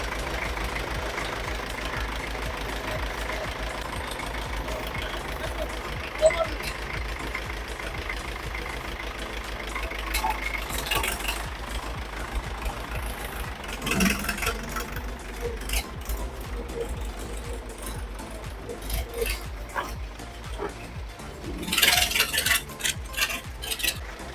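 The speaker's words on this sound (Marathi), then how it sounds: "आता ते ट्रॅक्टर चालू करून दाखवणार आहे" A 1964 Russian tractor engine runs at a steady idle, a continuous low mechanical churn with knocking, overlaid by metallic clatter and a few louder rattling bursts near the end.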